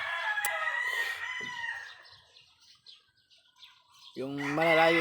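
Chickens and roosters at a poultry farm, with a rooster's crow and clucking up front, then a brief lull before a second loud, close crow rises at the end.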